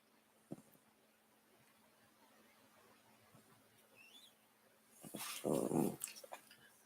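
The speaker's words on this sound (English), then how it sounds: "My little Chihuahua hates this dog, by the way. You can hear her growling." A small Chihuahua lets out a low, rising growl close by that swells into a louder snarling burst near the end, after a quiet stretch with a faint thump and whine.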